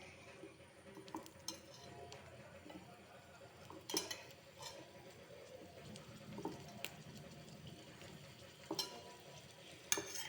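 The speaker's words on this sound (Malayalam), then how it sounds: "അപ്പോൾ നമ്മൾ അരിഞ്ഞ് വെച്ച് സവാള ഇട്ട് കൊടുക്കണം." Sliced onions fry in hot coconut oil for vegetable fried rice, a faint, soft sizzle broken by light clinks and scrapes of a utensil stirring the pan, quiet and close.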